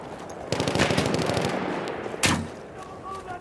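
Machine gun fire in the Battlefield 1 video game: a rapid burst of loud automatic shots rattles for about a second, followed by another sharp close burst, with faint game ambience between.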